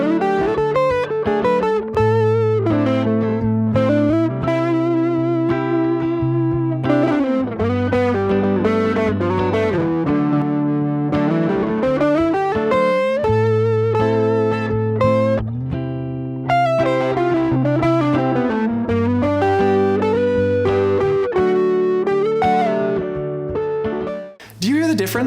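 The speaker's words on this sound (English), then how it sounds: "here is a solo that's rooted on chord tones and some music fundamentals instead" Electric guitar solo with effects and distortion that outlines chord tones over a steady backing with sustained bass notes. Melodic lines weave continuously at full volume for about 25 seconds with no talking.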